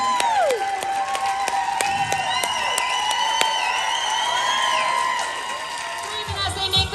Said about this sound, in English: I want everyone to give this amazing, incredible, fearless, talented actress a huge round of applause.